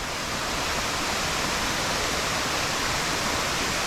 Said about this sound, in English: And down here, some nice running water